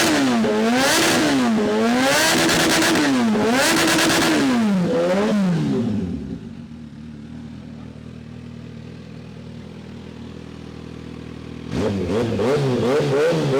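A Kawasaki ZH2 motorcycle fitted with a blacked-out slip-on exhaust revs hard in a series of loud, rising and falling bursts. It then settles to a low idle and revs sharply again near the end.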